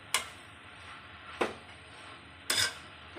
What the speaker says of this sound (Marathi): आता याच्यावर मी झाकण ठेवणार आहे